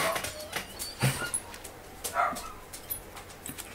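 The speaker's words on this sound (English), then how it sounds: "Don't you woof at me" A pet dog gives a few brief, soft woofs and whimpering yips at close range, scattered across a quiet indoor moment with no talking.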